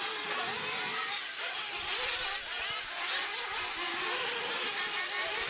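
Nitro-powered 1/8 scale RC truggy engines racing on a track, a dense high-pitched buzzing whine from several small engines overlapping and pulsing as they rev and pass, loud and continuous without speech.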